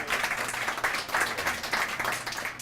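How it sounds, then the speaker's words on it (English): Audience clapping at a poetry open mic night, moderately distant and fairly sparse, with individual claps pulsing through a steady patter. "One more round of applause for all the people."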